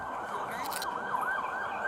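An ambulance siren wails steadily and loudly with a wavering, rising-and-falling tone over a night roadside scene, with no other sound standing out.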